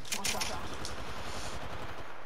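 Automatic weapon fire with heavy recoil in the video game Apex Legends, a loud, rapid continuous burst of gunshots running the whole time, with a voice briefly mixed in near the start.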